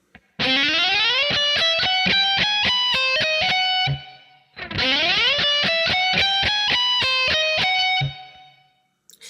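Distorted electric guitar plays a rapid run twice through, fast picked notes climbing and descending in clear rhythmic bursts, loud and close with a brief gap between the two passes.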